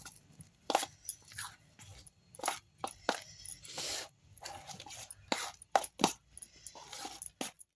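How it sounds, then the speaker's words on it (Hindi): Ginger, black salt and cumin get mixed in a bowl with a spoon, giving irregular close scraping, rubbing and light clinking strokes in quick bursts with brief pauses, no voices. "अब इसे हमें अच्छी तरह से मिक्स कर लेनी है।"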